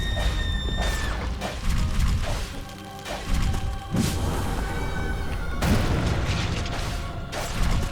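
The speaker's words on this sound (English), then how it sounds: "Smashed by a rock." Heavy crashing impacts and rumbling booms from a rock smashing into the player in Vigil: The Longest Night, layered over dense game music and effects, with loud hits recurring every couple of seconds.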